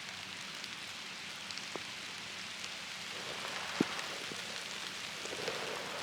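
Steady rain falling at a campsite during a storm, a soft, even hiss of drops with occasional faint taps and one sharper drip, fairly quiet and continuous with no voices.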